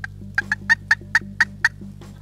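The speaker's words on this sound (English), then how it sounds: "that sounds like a real good guttural gobble" A wild turkey tom gobbles in a rapid guttural burst of about eight sharp throaty notes, clear and fairly close over a low steady hum.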